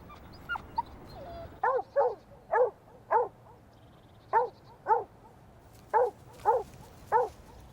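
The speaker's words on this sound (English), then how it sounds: "It sounds quite a happy bark." A dog barks happily during play, about ten short yipping barks in an uneven rhythm, fairly close and clear over a quiet background.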